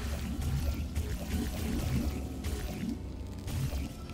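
Water sloshing and splashing in Portal 2, a steady low churning wash with soft bursts that runs continuously and fairly close, with no talking over it.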